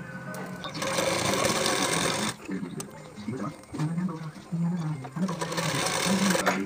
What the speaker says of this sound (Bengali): এর উপর থেকে আপনারা অবশ্যই দুটি সেলাই দিয়ে নেবেন